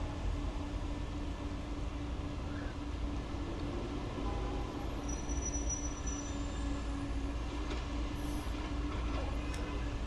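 London commuter train in the video game Train Sim World 2 pulling into a station, a steady rumbling rail roll with wheel hum and faint squeals, continuous and fairly close.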